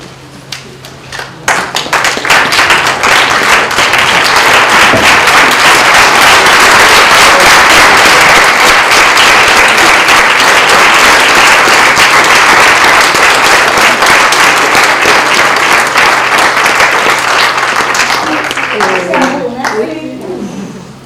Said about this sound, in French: J'aurais souhaité, si ça vous dit, qu'on se lève pour les applaudir.